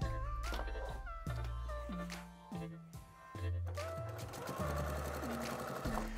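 A sewing machine stitches binding onto a quilt, its needle running in a fast, even mechanical rhythm with brief pauses between bursts of stitching.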